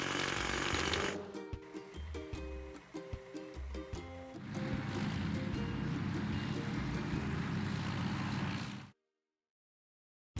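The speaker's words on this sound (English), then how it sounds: "Hydraulic hammer." A hydraulic hammer in a truck video game breaks rocks, with rapid mechanical pounding in short bursts at first and then a continuous rattling roar that cuts off abruptly near the end.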